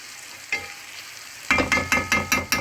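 Saltfish coated in curry powder sizzles in a pot and is stirred briskly, a soft spatter first, then a run of rhythmic scraping strokes with hissing, close and fairly loud, no speech.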